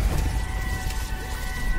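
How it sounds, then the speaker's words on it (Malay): Heavy rain drumming steadily on a vehicle while driving into a downpour, with a constant low rumble and broadband hiss throughout and no talk. "Kita masuk hujan"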